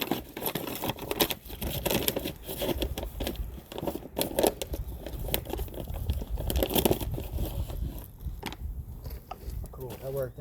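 Roots Organic living soil pours and rustles out of a zippered bag, a steady crinkling, crunching patter of loose soil and plastic close by, with someone talking at times.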